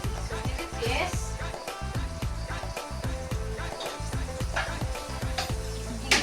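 Oil sizzles in a pan for salmon sinigang sa miso, with quick rhythmic knocks running through and people talking over it.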